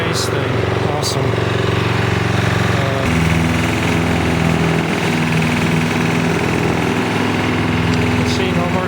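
A Toro Personal Pace walk-behind mower runs steadily close by, a rough continuous engine drone with a shift in tone partway, no grinding, and faint clicks near the start.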